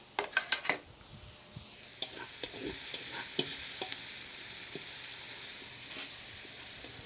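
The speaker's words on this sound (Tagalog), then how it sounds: "Gisa natin sandali mga studio hanggang sa mag-translucent yung kulay ng Bombay ba" Onions and garlic sauté in a pan over an outdoor cooking fire, a steady close sizzle with a few sharp utensil clinks at the start and scattered light taps as they are stirred.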